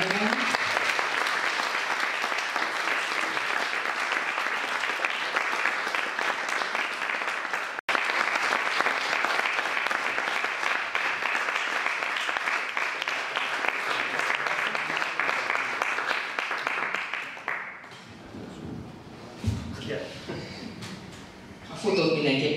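A large audience claps steadily and loudly in sustained applause for about eighteen seconds, then it breaks off and voices take over near the end.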